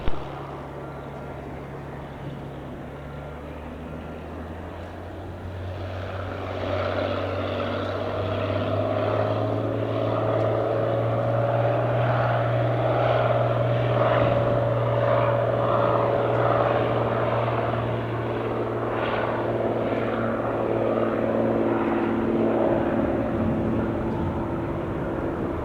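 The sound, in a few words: Cirrus propeller airplane taking off from runway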